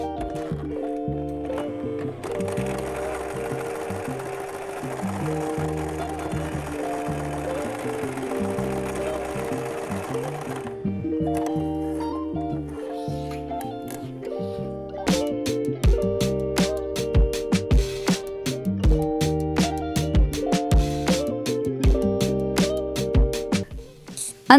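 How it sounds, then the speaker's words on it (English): A sewing machine stitches a double hem on a scrap-fabric project, running in a steady mechanical chatter for the whole stretch, with speed changes and brief pauses partway through. "I'm going to just sew it all together with a double hem"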